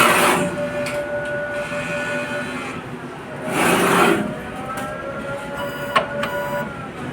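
An inkjet printer runs a nozzle test, its print head making repeated mechanical passes as short whirring bursts over a steady low hum, close and fairly loud, with a small click near the end.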